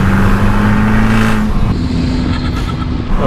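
An Abarth car on a mountain pass: its engine and exhaust drone loudly and steadily close by, with a raspy, rumbling tone that shifts slightly in pitch as it pulls.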